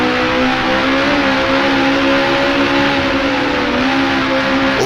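Race car engine in the Grand Prix Legends sim, a 1966 Tasman Series car at Bathurst, droning loud and steady with a sustained harmonic whine as it holds revs while shifting up to fourth gear, no voices.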